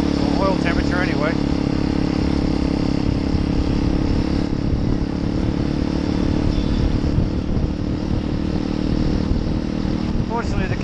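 A small motorcycle is ridden hard near its top speed on a Nepal commute, the engine droning loud and steady with constant rushing wind, the pitch barely changing throughout.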